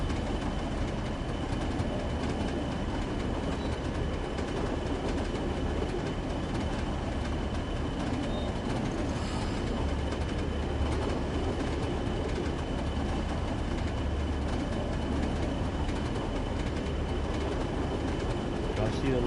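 A train runs through a tunnel in the Train Sim World 3 game, a steady loud rumble and roar holding evenly throughout, with voices talking over it.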